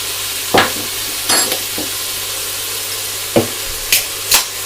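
Beef and onions sizzle steadily in a pot for a beef and beer stew, a continuous hiss broken by a few sharp scrapes of a spoon stirring, close and fairly loud.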